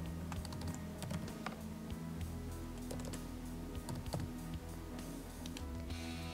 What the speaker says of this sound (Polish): Wpisujemy login, wpisujemy hasło.